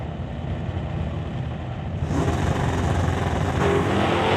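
A 1971 Pontiac Ventura drag car runs the quarter mile in Real Street class at Doorwarz 11, its engine a steady, loud roar that swells and intensifies partway through the pass, with no voices over it.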